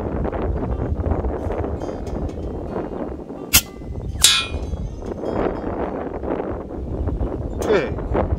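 An air rifle fires a 25.4 grain .218 Inferno flat-base slug at a 100 m target, a single sharp crack followed moments later by a faint distant impact, under steady outdoor wind noise.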